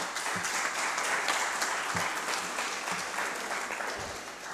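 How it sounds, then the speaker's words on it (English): An audience at a public speaking competition applauds steadily, a dense wash of clapping that holds at an even level for several seconds before easing slightly. "Let us give them a round of applause."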